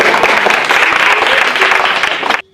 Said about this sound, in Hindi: मुखिया जी के लिए ताली बजाइए आप लोग